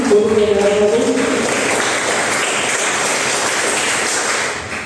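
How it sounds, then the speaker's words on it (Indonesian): A classroom of automotive engineering students breaks into steady applause for their class, a dense, even patter of many hands that fills the room from start to finish and eases off only slightly at the very end. "Tepuk tangan dulu untuk TKR 1."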